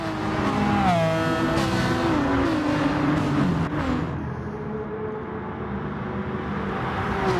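Race cars in an FIA Manufacturer Series race, with a Lamborghini and Porsche among them, roar loudly off the start, engines revving and shifting up through rising whines before settling into a sustained drone.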